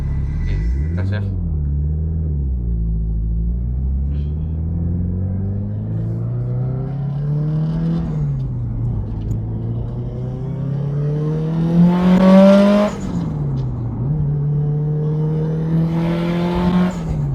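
A Subaru hatchback fitted with a full bodykit revs its turbo engine hard several times. The pitch sweeps up and falls back between the pulls, with turbo whooshes at the peaks and a voice heard over the noise.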